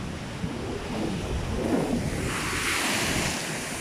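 Ocean surf rolls onto the shore at Port Edward while strong wind buffets the microphone, a continuous loud wash of waves and gusts with no talking.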